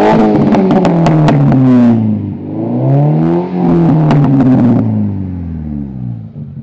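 A VW Golf Mk4 fitted with a custom exhaust revs up loudly and close by in several rising and falling sweeps, the engine note climbing and dropping before settling into a quieter idle.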